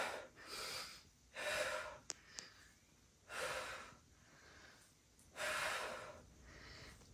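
Heavy, forceful breathing during a no-equipment bodyweight HIIT workout: four loud, breathy exhale bursts come in a steady rhythm, close to the mic, with quieter panting between them and no talking.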